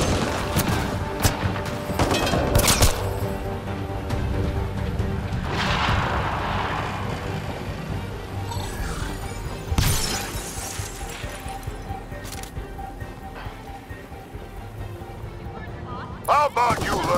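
Gunfire in the video game Cold Menace, a series of sharp, loud shots and shattering impacts in scattered bursts over continuous combat noise, with voices speaking in between.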